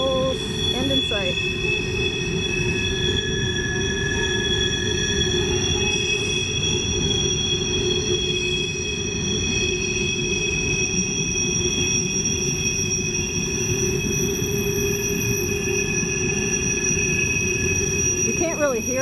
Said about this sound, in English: you are surrounded on all sides by the squealing of the wheels on the track